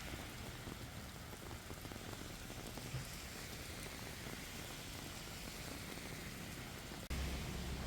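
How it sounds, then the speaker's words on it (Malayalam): Heavy rain falls steadily during an evening walk through the Infopark IT hub in Kakkanad, Kochi, a dense, even hiss of drops on surfaces that thickens with a sudden louder burst near the end. "കാറ്റിനേക്കാളും ഉപരി നല്ല മഴയാണ്."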